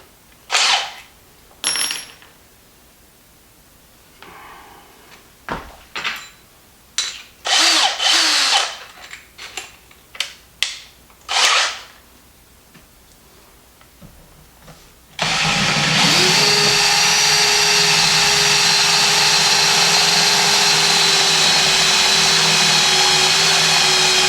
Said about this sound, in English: Switch to a mason bit.